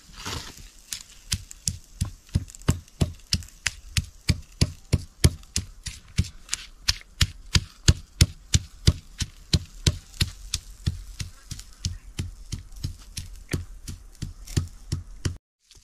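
Spice paste (masala) being ground by hand for a pigeon pea pod curry, a steady train of sharp, evenly spaced strokes or pounding knocks repeating about three times a second, close and clear throughout with no talk.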